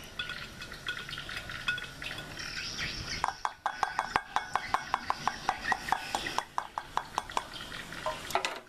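Daphnia culture water stirred in a container, a run of sharp, irregular clicks and splashy taps after a softer rustling start, close and moderately loud, with faint bird chirps in the background.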